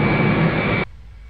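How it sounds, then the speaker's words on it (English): Airbus A340-300 at the start of pushback in the FS2004 flight simulator, a loud steady whining engine and air roar that cuts off abruptly less than a second in and leaves a low hum, with no one talking. "Okay, starting pushback."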